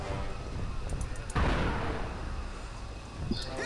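Buildings being smashed in the Psychonauts video game, Lungfishopolis level: a loud crashing burst of destruction that decays into rumbling debris, with a smaller impact near the end, under game background sound.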